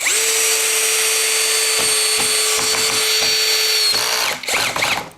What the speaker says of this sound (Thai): เนี่ยสกูสามนิ้วไม้เนื้ออ่อนเนี่ยเบอร์6เท่านั้นเองนะ